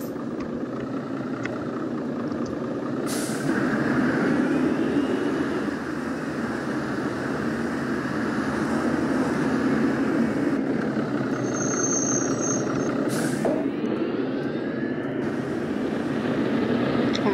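Road traffic in the OMSI 2 bus simulator game on the Harrothorpe route: a steady engine and vehicle drone with passing cars and swells, no talk.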